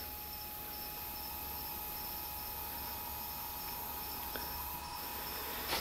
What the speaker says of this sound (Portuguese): Cara, uma caixa de abelha enorme nesse sofá.